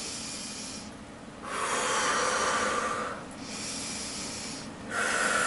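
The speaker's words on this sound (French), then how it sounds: "Donc, vous pouvez respirer juste en profondeur." Slow, deep breaths repeat in a steady rhythm: long airy inhales and exhales alternate with short quiet pauses, close and alone, with no talking.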